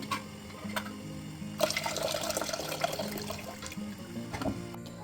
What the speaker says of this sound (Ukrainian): Зливаємо воду у кастрюлю, а банки знову прикриваємо кришками.